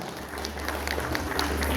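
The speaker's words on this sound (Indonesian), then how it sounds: "Beri tepuk tangannya ya kawan-kawan" An audience claps together in steady, moderately loud applause that fills the whole moment, over a low background hum.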